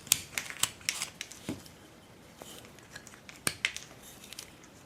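Quiet, close carving on a wooden pilgrim figure: a knife rounds the wood and removes cut marks in small irregular snips and scrapes with short pauses between cuts.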